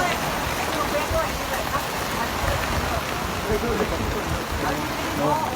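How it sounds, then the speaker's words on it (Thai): A heavy hailstorm with strong wind sounds as a dense, steady roar of ice and rain pelting surfaces, loud and continuous throughout with no breaks. "ลูกเห็บตกด้วยครับ พายุลูกเห็บครับวันนี้พายุลูกเห็บ"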